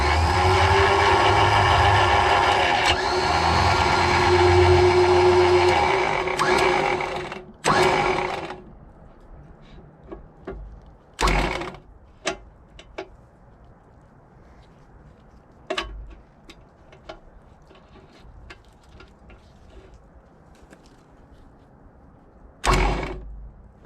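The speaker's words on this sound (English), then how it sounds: "We have got a functioning winch." Electric winch on a Jeep XJ overlander running after fresh wiring: a loud, steady motor whine for about seven seconds, then it stops, followed by scattered clicks and knocks and one more brief burst of noise near the end.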